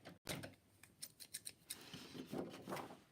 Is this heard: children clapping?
no